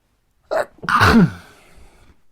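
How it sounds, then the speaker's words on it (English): One close sneeze: a sharp inhale followed by an explosive burst that fades quickly into quiet. "I have to sneeze."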